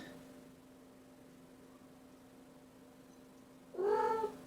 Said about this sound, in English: Was that your cat?